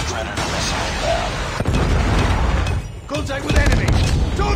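A predator missile detonates in Call of Duty Mobile multiplayer, heavy booming blasts and bursts of gunfire rolling through busy battlefield noise, with game voice lines heard over the action.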